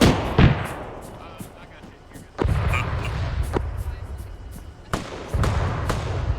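Gunfire in the Arma 3 military game during a mountain-pass battle, with sharp heavy shots and booming artillery-like blasts at intervals, each followed by rumbling echo, loud and close.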